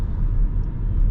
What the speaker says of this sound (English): This is the sound of the truck in front of us.